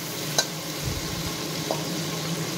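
Two tomatoes fry in oil in a pan, a steady close sizzle with a faint clink of a spoon near the start and soft stirring scrapes partway through.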